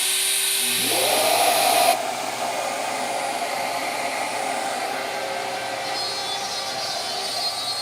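A Shaper Origin handheld CNC router spins up to a steady high whine, then cuts circles from a board with a continuous, close, loud, even machining drone and no talk.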